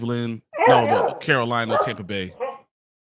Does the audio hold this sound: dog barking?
yes